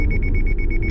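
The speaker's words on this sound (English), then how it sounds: "Thanks to the beeps and automatic braking system, this car stops on its own in time." Rapid, high-pitched electronic car collision warning beeps repeat in quick succession over a loud low engine rumble, close and insistent, as the automatic braking system stops the car.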